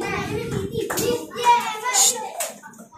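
Children in a 4th-standard maths class clap their hands in quick, patchy bursts while a teacher and children talk over it, the clapping close but uneven and mixed with voices.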